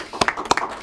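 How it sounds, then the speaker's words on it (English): A few scattered claps at a regional council meeting, three or four distinct sharp hand claps in under a second, close and fairly loud, as a brief round of applause begins. "I'd like maybe we give him a round of applause"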